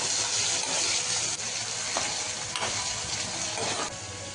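Onions frying in a pan for Marathi kanda poha give a steady, close sizzle with faint stirring and scraping throughout.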